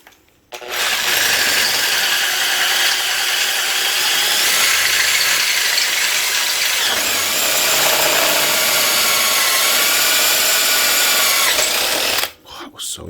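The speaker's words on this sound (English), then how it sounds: "This will be a fair drill because we're going through about 10 mil of steel now." A power drill bores through roughly 10 mm of steel on an off-road trailer build, grinding steadily and loudly for about twelve seconds with a whirring motor tone, then stopping abruptly.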